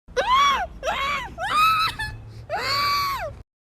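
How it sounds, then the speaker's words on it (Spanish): A girl lets out a war cry in a fantasy tale, delivered as four loud, drawn-out screaming bursts in quick succession, close and raw, alone with no talk. "emitiendo un grito de guerra que se escuchó por toda la habitación."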